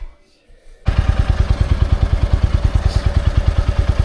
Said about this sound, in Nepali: बाइक लिएर आऊँ न त।